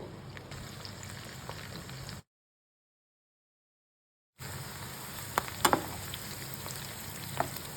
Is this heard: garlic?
yes